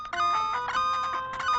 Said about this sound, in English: Oh god, that beeping is so annoying